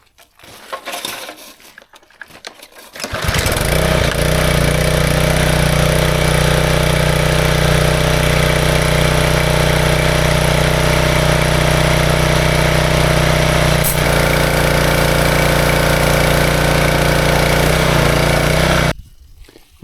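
A scrapped, long-neglected skid steer loader's engine catches after a brief rough start, then runs and idles steadily and loudly at close range for the rest of the stretch before shutting off, with no talk.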